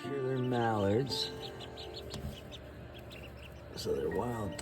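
Wild mallard ducklings found alone on a roadside give soft, high peeps. A voice is heard at the start and the end.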